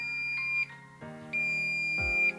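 A handheld wall detector, tested against an offcut of multilayer pipe, gives a series of clear electronic beeps in short repeated bursts, with no voices.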